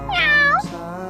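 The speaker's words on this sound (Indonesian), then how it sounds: "Kucing aku kepo banget." A cat lets out a single loud, close meow that rises and falls, then trails off into quiet.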